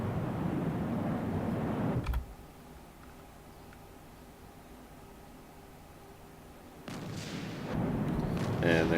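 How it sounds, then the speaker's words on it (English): Flak fire in the Vietnam-era flight sim Strike Fighters 2: Vietnam, heard as a dense roaring barrage that drops away abruptly into a quieter low rumble before the heavy noise returns. "wingman taking flak fire from somewhere."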